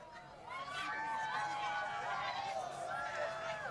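An eclipse-watching crowd in Burlington, Vermont, cheering at totality, a sustained swelling roar of many voices with whoops and rising shouts, fairly distant and steady throughout.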